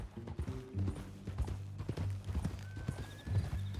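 Horse hooves clip-clop at a steady walk in the Red Dead Redemption 2 video game, the rhythmic clops sitting over a low droning background with a brief tonal sweep near the end.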